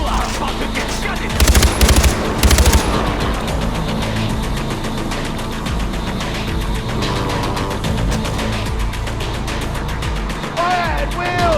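Far Cry 4 gunfire, dense automatic bursts and rattling shots filling a busy battle mix, with a few louder close volleys early on and loud, continuous action sound throughout.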